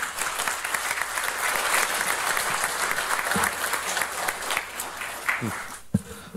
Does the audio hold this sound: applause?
yes